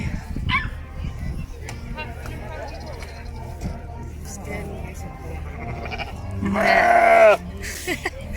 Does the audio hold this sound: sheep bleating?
yes